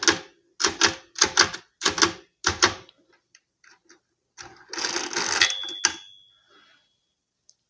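A vintage Facit CM2-16 mechanical calculator clacks through rapid key strokes, then a longer whirring crank run during subtraction ends with a short bell ring, loud and close.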